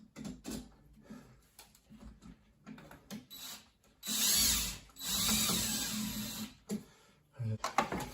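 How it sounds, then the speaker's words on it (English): A cordless power drill drives two drywall screws into an electrical box behind a TV, heard as two sustained whirring bursts broken up by shorter clicks and handling noise close by. "just take 2 drywall screws and screw it into the box"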